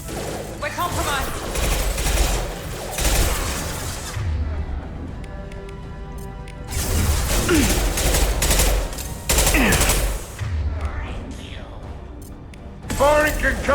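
Concussive shot and gunfire in Mass Effect 2 combat, repeated bursts of weapon fire and impacts coming in loud clusters with pauses between, while a voice talks over parts of the action.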